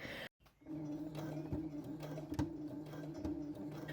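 A sewing machine runs twin needles over stretch fabric while sewing on a patch pocket, giving a quiet, steady mechanical whir with regular soft ticks. The sound starts after a brief pause and stays close and even.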